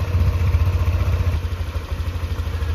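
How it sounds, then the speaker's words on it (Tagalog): A motorcycle engine idles steadily up close during a gear oil change, with a low, even thrumming pulse and light mechanical clatter running the whole time, and nobody talking. "Pag gaganahin natin or idle natin yung motor natin,"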